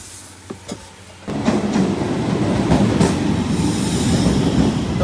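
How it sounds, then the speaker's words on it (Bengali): A train rolls into a station: after a quiet start with faint clicks, a loud steady rumble of rail wheels and clattering carriages sets in and continues close by. "তো গাইস, ট্রেন চলে এসছে"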